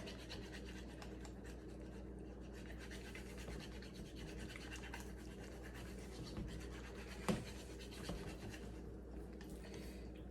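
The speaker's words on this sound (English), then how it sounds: "So I'm gonna take my chopsticks and just keep them moving." Chopsticks stirring beaten eggs in a pan for a French omelette, a soft continuous scraping and rubbing against the pan with one slightly louder knock, quiet and close, with no one speaking.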